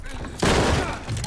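A sudden burst of gunfire in the shooter Call of Duty Vanguard, a sharp loud blast with a brief rattling tail and a second smaller hit just after, close and without speech.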